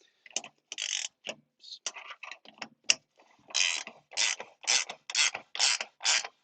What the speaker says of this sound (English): Okay, wrench. And we're going to crisscross pattern it again.